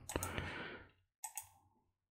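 Two sharp computer mouse clicks, close and quiet, separated by about a second of silence, each with a brief fading tail.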